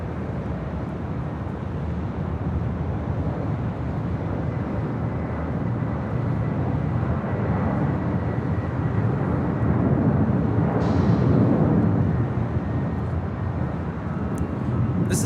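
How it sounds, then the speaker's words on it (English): An Atlas Air Boeing 747-400 freighter departs Los Angeles International Airport, a broad, steady jet roar that holds for about fifteen seconds and swells slightly toward the end, heard from a distance. "This is Atlas Air 7101 departing to Tokyo Narita on a 747-400 freighter."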